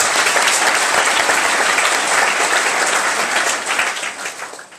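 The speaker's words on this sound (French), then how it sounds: "Est-ce qu'on peut acclamer le Seigneur?" Church congregation applauding to acclaim the Lord, a loud dense burst of clapping that holds steady, then begins to thin and fade toward the end.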